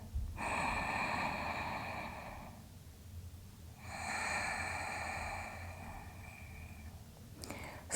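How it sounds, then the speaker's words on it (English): Slow, deep breaths during a yoga stretch: a long airy inhale, a pause, then another drawn-out breath, soft and close with a faint hiss of air and no talking. "One more deep breath."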